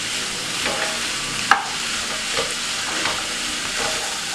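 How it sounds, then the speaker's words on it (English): Mixed vegetables sautéing in a pan for risotto, a steady close sizzle with occasional stirring scrapes and one sharp clink of a utensil against the pan, no voices. "So we've been sauteing this vegetables for the past 2 or 3 minutes."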